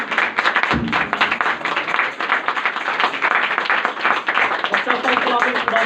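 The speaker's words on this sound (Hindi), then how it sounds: "आप खुदा के खादिम को आपकी जोरदार तालियों में" A church congregation at a Sunday service claps loudly for the pastor, a dense, sustained round of applause filling the hall, steady and energetic throughout with no pause.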